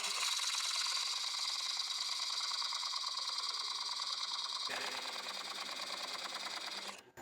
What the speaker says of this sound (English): it's come time to part this off the lathe. I've got my 2mm parting tool.